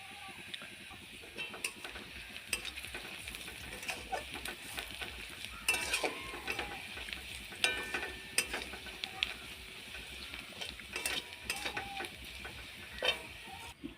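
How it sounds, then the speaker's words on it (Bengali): A spoon stirs fried onions with turmeric powder in a pan, making faint, intermittent scraping and clicking strokes at a low level throughout. "এই যে পেঁয়াজটা আমার লাল লাল করে ভাজা হয়ে গেছে এবার এর মধ্যে দিয়ে দিব হলুদ গুঁড়ো"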